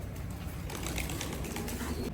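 Bursts of pigeon wings flapping close by as new pigeons go into a cage, quick fluttering beats over a low background hum, with a faint coo or two.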